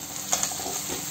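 Brinjal fries in a pan, giving a close, steady sizzling hiss with a few sharp clicks of stirring or a lid over about a second.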